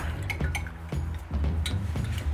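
Garlic powder, parsley and basil stirred together in a bowl, a utensil clinking and scraping against the dish in quick irregular taps, close and moderately loud with no talking.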